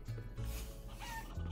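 Chickens in the video game Guacamelee cluck in short repeated bursts over a low game background hum, close and moderately loud.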